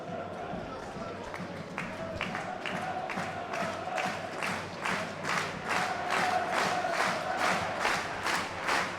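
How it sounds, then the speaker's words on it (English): Football supporters at Wrexham's Racecourse Ground chanting the Red and White Army song for Gary Mills, a large crowd singing with rhythmic, evenly spaced claps that grow louder and more forceful over the stretch. "Another loud rendition of Gary Mills, Red and White Army from the racecourse ground"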